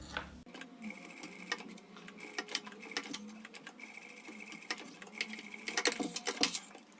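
A sewing machine stitches a rectangle to secure a crossbody bag strap, with rapid rattling bursts of stitching that stop and restart in short runs, close and fairly quiet.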